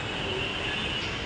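Steady broadband rumble of a train running past nearby, continuous and fairly loud for the whole moment with no voices.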